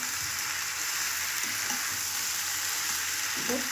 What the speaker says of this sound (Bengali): এটা এখন কষানো হোক মশলাটা ভালো মতন করে কষিয়ে নেব